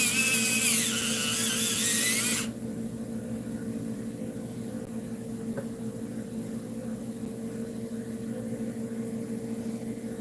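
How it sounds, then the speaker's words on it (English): A crimson red colored pencil is sharpened in a brief, loud grinding burst lasting about two seconds, followed by a quiet, steady electrical hum. "Oh, we gotta sharpen that."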